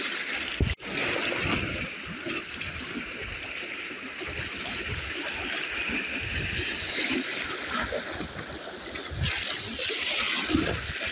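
Water of the Morava river flows and rushes around a paddled boat during spring paddling between Hanušovice and Postřelmov, a steady, close wash with small splashes and a brief sharp knock near the start.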